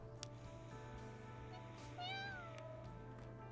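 A small recovering kitty in the video game Aether Gazer gives one clear, rising-then-falling meow near the end, over a steady soft background hum with no voices.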